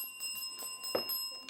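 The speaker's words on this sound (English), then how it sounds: "that is the bell signifying the end of the match" A bell rings out to end a school quiz match, a short metallic strike with sustained ringing overtones over a quiet room, fairly faint and heard without talk.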